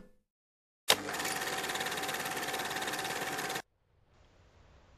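Bf 109 aircraft engine in a flight game with a variable-pitch propeller on manual control, a steady, even engine drone starting abruptly and running for about three seconds before cutting off.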